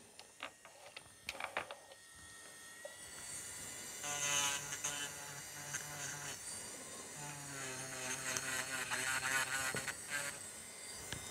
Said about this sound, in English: with the e-file machine, I'm just going to tidy them up